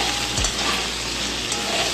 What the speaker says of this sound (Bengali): ঝিঙে আলুটা ভাজা ভাজা হয়ে গেছে